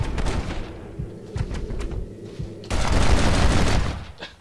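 Sharp Mauser pistol shots in Red Dead Redemption crack in quick bursts, separate rounds early on and then denser firing, loud and close over outdoor game ambience.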